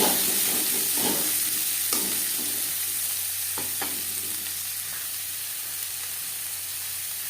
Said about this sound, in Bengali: ভেজে নেওয়া তেলে দিয়ে দেবো পেঁয়াজ কুচি